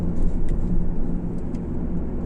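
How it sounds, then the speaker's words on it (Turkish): A Fiat Egea 1.4 Fire Urban accelerates at full throttle, heard as a loud steady engine and road rumble from inside the car, droning continuously without breaks. "Şimdi ara hızlanmayı mesela şöyle gösteriyorum. Dip gaz yapıyorum."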